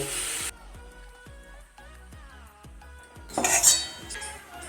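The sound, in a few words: lifting fried potatoes out of the pan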